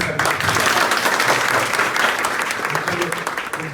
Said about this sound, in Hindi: तो तालियां बजा